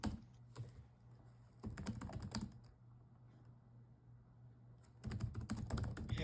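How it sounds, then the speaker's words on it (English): A schoolgirl typing on a computer keyboard, entering raw data: bursts of quick, close key clicks separated by a quiet pause, with a low steady hum in the background. "that's now a senior one girl typing"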